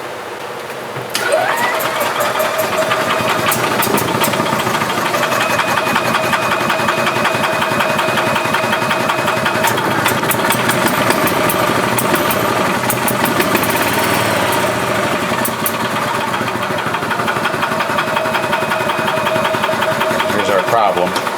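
A 2010 EZGO RXV gas golf cart engine, suffering from gas in its oil, starts about a second in and then runs steadily at a loud, even idle-like drone with a buzzy mechanical rattle for the rest of the stretch.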